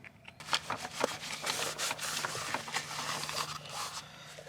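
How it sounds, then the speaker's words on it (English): Scraping hot glue off a small Axial SCX24 C10 RC car body gives a series of close, dry rubbing scrapes in short uneven strokes, heard alone at moderate volume. "Should just be able to scrape it off."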